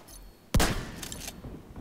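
A single loud blast from a double-barrel shotgun in The Division 2, a sharp close boom followed by a brief rumbling tail over faint background game noise.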